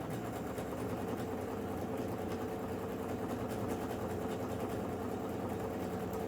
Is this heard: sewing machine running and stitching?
yes